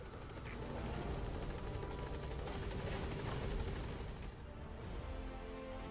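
The support helicopter in Metal Gear Solid V gives a continuous, loud rotor thrum with a dense engine roar, holding steady and close before easing slightly near the end.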